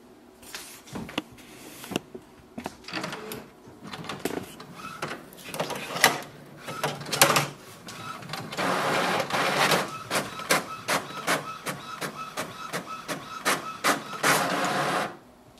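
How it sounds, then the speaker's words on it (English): Epson WorkForce WF-3823 printer running a test page: clicks and mechanical whirs, then a long feed sequence with rapid regular ticking of the print head, close and clear, with no talk. "Click on the print test page."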